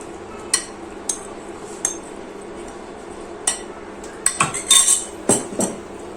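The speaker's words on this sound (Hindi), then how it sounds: "अब मैं इसमें डालूंगी फ्राइड चिकन।" Fried chicken pieces going into a pan of changezi gravy, with a series of sharp metallic clinks and taps of a spoon against the pan, spaced at first and then clustered quickly near the end.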